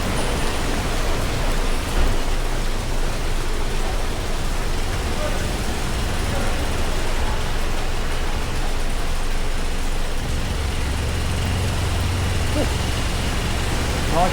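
Heavy tropical rain during a thunderstorm in Singapore, a steady dense broadband roar pouring without pause throughout, loud and close, with a deeper low rumble swelling near the end.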